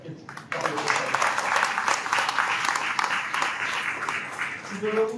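Audience applause at a school talk on Sundarbans wildlife for students, steady dense clapping from a crowd that swells after a brief start and carries on for several seconds.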